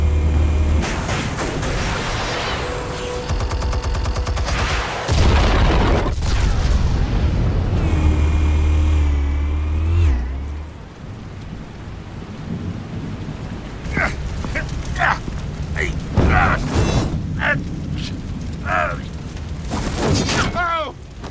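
Explosives detonating in a Batman Telltale game, with heavy rumbling booms and crackling debris under a dark, dramatic score, followed by sharp impacts while voices speak.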